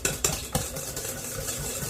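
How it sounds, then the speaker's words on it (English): A whisk beating an egg base for coffee ice cream in a bowl, a few sharp clinks near the start and then a steady, fairly quiet swishing whir, close and without voices. "you can continue whisking until it gets even more lighter and more pale in color"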